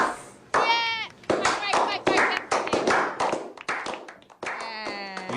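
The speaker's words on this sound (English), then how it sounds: "We never get tired of the slow clap" Hand clapping from a group of people in a studio, broken into separate bursts with gaps between them, mixed with chatter and voices throughout and a high voice at the end.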